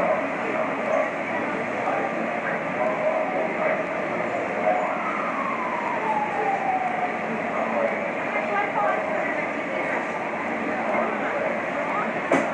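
Roller coaster train at Coney Island rumbles steadily along the track, a continuous loud roar with squeals and clatter throughout, the heavier of two trains running.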